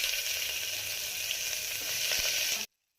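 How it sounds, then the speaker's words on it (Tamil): Sliced onion hits hot oil with bay leaf, cinnamon and cloves in the pan, a loud, close, steady hiss of frying that holds evenly and then cuts off abruptly. "வெங்காயம் சேர்த்துக்கிறேன்."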